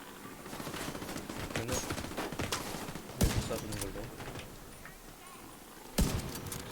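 Gunfire in the video game The Division 2, scattered bursts and single sharp shots over a busy game soundscape, with two loud close reports standing out, mixed under a player's talk.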